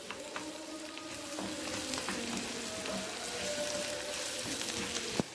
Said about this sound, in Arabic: وهقلبها كويس.